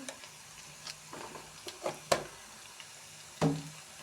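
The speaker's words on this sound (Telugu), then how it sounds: "ఒకసారి కలుపుకుందాం మంచిగా కలర్ పట్టేటట్టు" Turmeric being stirred into curry frying in oil for a cucumber and dried fish dish, heard as soft scrapes and a few louder clinks of a spoon against the pan over a low sizzle, with no talking.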